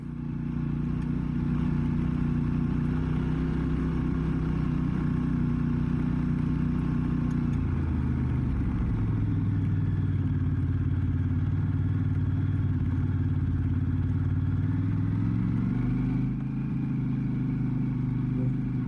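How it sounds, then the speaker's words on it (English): A Honda Transalp motorcycle climbs a loose gravel forest trail, its engine droning steadily and close throughout with wind rumble, dipping in pitch midway as the load changes, and gravel clatter beneath. "Let the climb begin. Into loose gravel."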